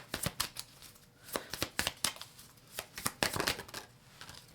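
A Mystic Forest Oracle card deck is shuffled by hand, giving repeated crisp riffling and slapping bursts of cards at an uneven, quick rhythm, close and clear, with no talking.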